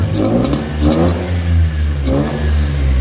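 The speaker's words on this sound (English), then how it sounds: "Seems to rev okay when it's not trying to move" A stationary engine that sounds like a two-stroke through the intake and falters when put in gear is revved up hard, close and loud, in three rising and falling swells.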